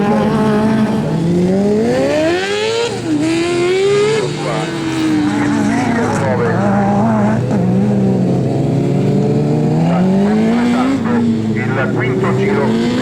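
Mitsubishi Lancer Evo IX racing an autocross lap at the Adriatic autocross, engine revving loudly up and down through gear changes with rising and falling pitch, under continuous commentary.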